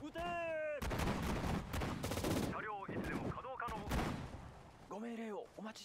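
Rapid gunfire and explosive bursts ring out in the Pacific War battle for Bataan in the strategy game Sudden Strike 4, loud and close, with an excited voice talking over the shooting.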